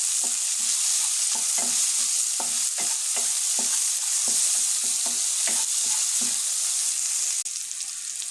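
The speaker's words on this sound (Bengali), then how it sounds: "লবণটা আগে দিয়ে দিলাম যাতে পেঁয়াজটা ভালোভাবে ভাজা হয়" Onions frying with salt in a pan, sizzling steadily while a spatula scrapes and taps in a quick, regular rhythm, close and clear with no talk.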